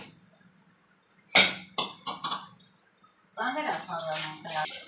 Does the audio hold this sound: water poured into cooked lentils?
yes